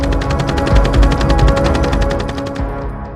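A gas-operated machine gun of the M249 SAW or M240B type fires one fast, even automatic burst of about two and a half seconds, loud and close, then stops with a short ringing tail.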